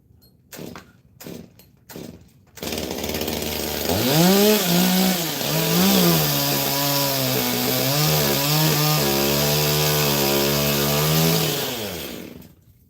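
A chainsaw cuts into a gum tree. A few sharp knocks and starting pulls come first, then the saw roars into a long, loud, steady cut whose pitch wavers as it bites into the wood.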